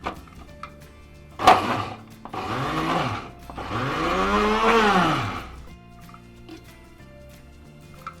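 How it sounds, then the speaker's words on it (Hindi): An electric kitchen chopper whirs in two bursts, a short one then a longer rising-and-falling run, as onion, herbs and spices are ground fine for Nargisi kofta mince; a sharp knock comes just before. "ये सब चीज़ें मैंने इकट्ठी चॉपर में डाल दी हैं। अब मैं इनको बारीक पीस रही हूँ"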